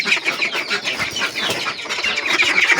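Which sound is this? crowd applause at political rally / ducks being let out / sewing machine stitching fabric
ducks being let out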